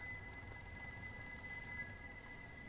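A telephone ringing somewhere in the horror video game Layers of Fear, faint steady high tones sustained over a quiet, low ambient hum with no speech.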